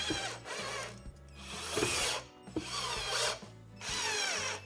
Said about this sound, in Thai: ยิงไปที่รูเดิมที่เราเจาะไว้นะครับเพื่อนๆ ให้มันตรงรูที่เราเจา ะไว้นะ แล้วก็ยิงลงไปครับ